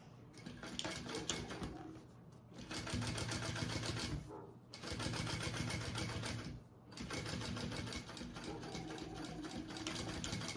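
Close, loud running of a sewing machine top stitching a tote bag side panel, in three long bursts separated by brief pauses.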